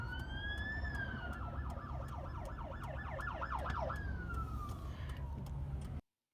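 Police car sirens wail during a slow street car chase in Los Angeles, a rising tone shifting into a rapid yelp cycle before sliding back to a long wail, fairly near and loud over low traffic rumble, ending abruptly.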